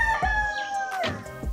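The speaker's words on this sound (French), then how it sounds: "au chant du coq" A rooster crows at dawn in a Yaoundé neighbourhood, one clear drawn-out call at moderate distance over faint background noise, with no voices.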